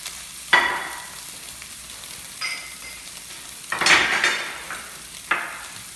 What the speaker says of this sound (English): while our scallops are pan searing